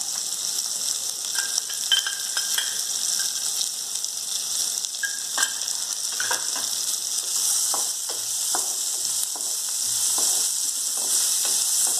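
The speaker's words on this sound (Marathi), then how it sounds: "आता आपला कांदा परतून झालेला आहे।" Onion fries in a pan for upma with peanuts already roasted in it, a steady close sizzle broken by occasional stirring clicks and scrapes, no voices.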